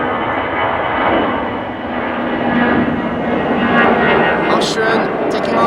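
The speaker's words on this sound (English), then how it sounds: "Austrian taking off to Vienna in the meantime" An Austrian Airlines jet takes off toward Vienna from Amsterdam Schiphol, its engine roar a loud, steady broadband rush lasting throughout, with a faint voice beneath it.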